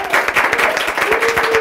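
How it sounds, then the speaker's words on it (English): An audience welcomes a speaker at a Startup Grind Memphis event with steady, dense applause, many hands clapping together at full volume throughout. "let's welcome him with a round of applause"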